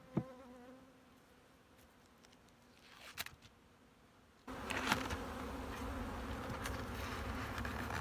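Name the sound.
bees buzzing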